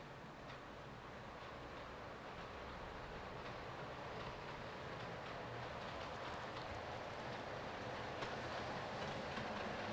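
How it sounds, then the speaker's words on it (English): A small model train, a 125, rumbles into a station area with a steady, faint clatter of wheels on track, continuous and slowly building. "Now I should just bring up the 125 into this station area"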